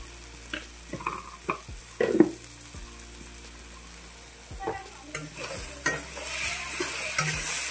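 A spoon stirs masoor dal tarka in a pan, with scattered scraping strokes and clinks over a low sizzle that rises toward the end, and no talking.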